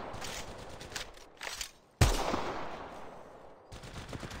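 Bursts of gunfire in the Apex Legends Mobile game, a rapid volley, a short pause, then a sharp loud shot followed by more sustained firing.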